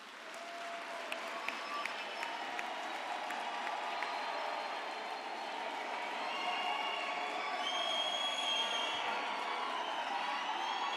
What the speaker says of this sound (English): let us give the graduates a thunderous round of applause.